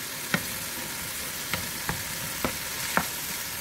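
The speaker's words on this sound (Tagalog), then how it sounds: "Igisa natin mga loads para mas lalong masarap ang ating Bicol Express." Pork belly being sautéed for Bicol Express in a frying pan, giving a steady sizzle with a few sharp stirring clacks of a utensil against the pan, close and moderately loud, with no voices.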